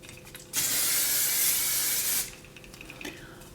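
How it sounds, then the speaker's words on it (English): A single sustained hiss of hairspray from an aerosol can lasts under two seconds, close by, followed by quiet handling noises. "I probably spray some hairspray just on the top."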